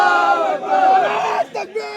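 A crowd at a religious procession chanting a loud, unified reply to the Nara-e-Takbir call, voices blended into a sustained roar that breaks into short shouted bursts at the end.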